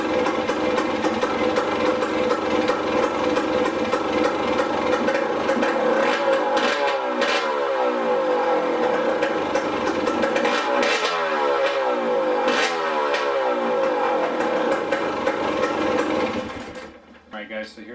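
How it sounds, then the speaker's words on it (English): A KTM 300 XC two-stroke dirt bike with its silencer removed runs loud and raspy, holding a steady idle broken by several sharp revs before cutting off at the end. "I wanted to fire it up, see what it sounds like when it's got no silencer"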